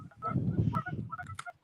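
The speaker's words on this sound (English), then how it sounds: "Sound like James got the honkers again." A flock of geese honks near a ditch, a brief burst of overlapping nasal calls that rise and fall in short, irregular bursts, fairly faint and without talk.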